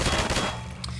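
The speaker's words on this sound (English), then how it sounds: "Again, here's this weird operating machine gun." Brief burst of rapid machine gun fire from a mounted gun in the game Half-Life 2, loud at first and then trailing off into a low rumble, with no talking.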